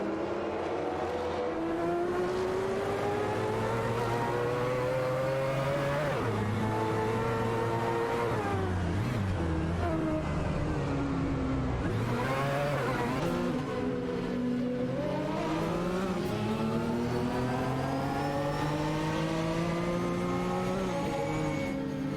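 Engines of a Jaguar XTR5 and a Mazda 787B in an AI-driven racing video game, a continuous loud roar with rising and falling revs and gear shifts over about twenty seconds, no talking.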